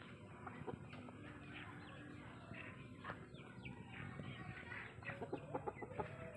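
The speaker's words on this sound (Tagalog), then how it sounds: "Ito nga pala yung tinola line na manok kong alaga." Chickens raised for tinola cluck and chatter softly amid a busy outdoor backyard-farm background, with scattered short calls that grow denser toward the end.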